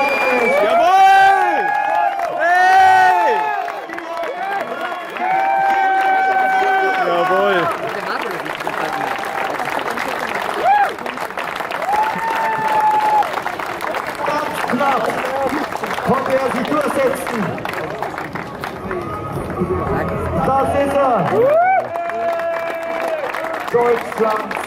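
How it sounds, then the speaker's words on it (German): Crowd at a strongman contest in Bad Tölz, Germany, claps and cheers loudly and steadily throughout, mixed with shouts and voices talking over it. "wir können alle gratulieren, wir können alle klatschen."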